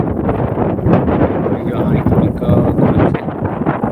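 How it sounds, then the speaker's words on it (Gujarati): Strong wind gusts across an open farm field planted with groundnut and pigeon pea, producing steady roaring buffeting against the microphone with no clear pauses. "પવન પણ જોરદાર ફૂલાય"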